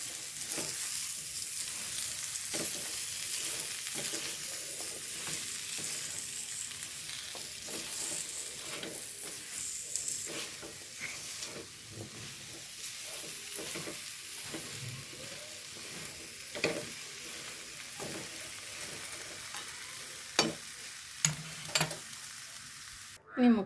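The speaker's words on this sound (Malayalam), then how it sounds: "ഒന്നിളക്കി കൊടുക്കും" Large pieces of cut fruit for a three-fruit pickle are stirred in a pan, giving a soft continuous sizzle with scattered scraping knocks and a sharper clatter near the end, no voices.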